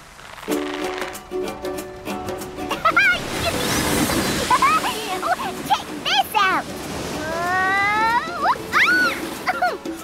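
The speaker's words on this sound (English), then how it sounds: "The frothy waves are just the right size for surfing." Frothy surf waves in a children's animation wash over the shore in a broad, steady rush, with whistly tones and a voice heard alongside the water.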